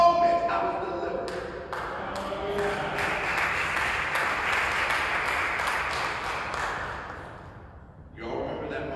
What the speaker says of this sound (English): You all remember that moment right there where you all clapped?